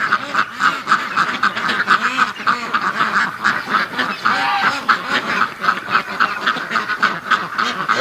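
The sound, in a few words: ducks quacking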